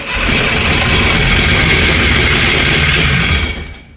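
A jet ski engine fires up and runs at a steady, loud, droning roar throughout, tapering off slightly at the very end; no talking is heard.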